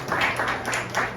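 A church congregation claps together during a lively service, with rhythmic bursts of applause close by that swell and fade in quick pulses over about a second.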